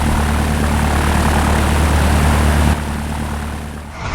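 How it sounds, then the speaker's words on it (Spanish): Wartime propeller airplanes drone loudly overhead in a steady roar that drops suddenly to a quieter hum partway through. "los aviones"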